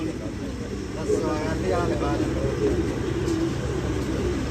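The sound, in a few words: pigeons cooing on rooftop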